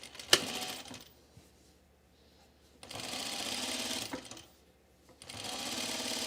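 A sewing machine stitches a quarter-inch seam on a fuzzy button-down shirt fabric in two steady runs, separated by a pause with a sharp click near the start.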